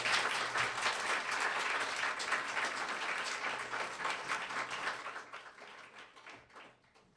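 Audience applause after student speakers at a climate action event, a dense sustained clatter of many hands that holds steady before thinning and fading away near the end.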